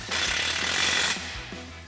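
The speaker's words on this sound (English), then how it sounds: "Get our 13 millimeter bolts back in. And we'll tighten these back down with our 13 mil socket." Brake line bracket bolts on a Ford F-250 are driven tight with a 13 mm socket, a loud steady mechanical rattle lasting about a second before it cuts off, followed by quieter low knocks.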